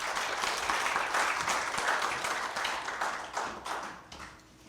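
A large audience claps steadily at the 34th anniversary ceremony of Kangdong Sacred Heart Hospital, a dense, continuous patter that holds strong, then thins and fades toward the end.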